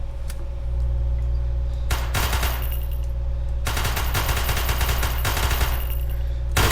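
Automatic fire from a TZ-45 submachine gun in the Call to Battle video game, with a short burst early on, then two longer sustained volleys over a steady low hum. The shots are loud, close and rapid.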